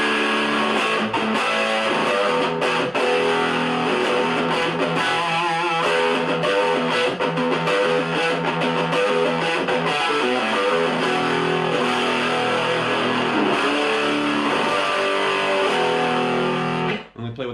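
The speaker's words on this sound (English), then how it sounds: "as soon as you start turning that gain up, it becomes, obviously more distorted" An electric guitar plays through a small mini amp with the gain turned all the way up, producing a continuous, heavily distorted, buzzing tone that runs for many seconds and then cuts off abruptly.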